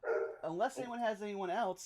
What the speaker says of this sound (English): I am so sorry about my dog barking.